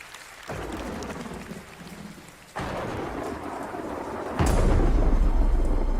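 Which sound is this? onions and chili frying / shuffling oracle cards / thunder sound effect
thunder sound effect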